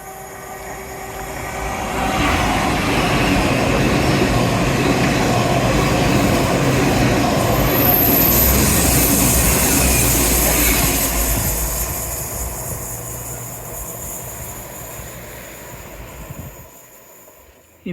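A train rumbles past along the seafront railway at Teignmouth, building from a distant approach to a steady, loud roar of wheels and engine, then fading away as it recedes.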